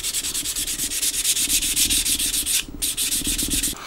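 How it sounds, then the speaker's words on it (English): Rapid rhythmic scratching of sandpaper rubbing back and forth on wood for a HMS Victory scale model, close and steady, with one brief pause partway through. "So I'm going to continue sanding away with this."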